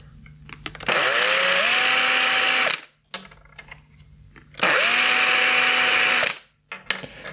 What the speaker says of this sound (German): Genauso bohren wir hier durch.